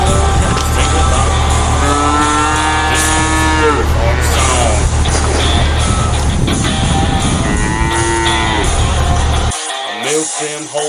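Holstein dairy cows mooing on a dairy farm, with repeated drawn-out lowing calls rising and falling over a steady loud background of music or machinery noise, then a brief quieter stretch at the end.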